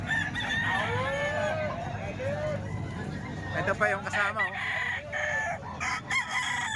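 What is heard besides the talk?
many chickens clucking and crowing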